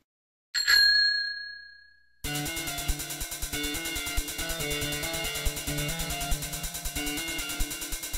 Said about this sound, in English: And don't forget to ring that bell.